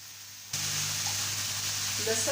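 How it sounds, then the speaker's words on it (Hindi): Potato pieces with onions start frying in a pan, a soft steady sizzle rising suddenly after a quiet start, with faint tonal hum and a few light clinks near the end. "इसको हम हल्का सा फ्राई करेंगे कि इनका पानी खुश्क हो जाए।"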